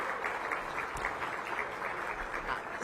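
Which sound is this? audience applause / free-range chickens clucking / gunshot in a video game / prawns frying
audience applause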